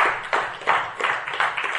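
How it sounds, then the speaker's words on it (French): A church congregation claps for the Lord in a steady, even rhythm of about six claps. The claps are loud, close and bright, with no talk over them. "Können wir für den Herrn klatschen?"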